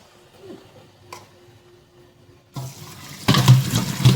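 Water rushing and splashing as scalded smoked turkey wings are drained in a kitchen sink, starting quietly and swelling into a loud, steady pour near the end.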